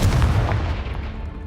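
A Confringo fire spell blast from the video game Hogwarts Legacy hits as a single deep, booming burst that rumbles and then fades over about a second.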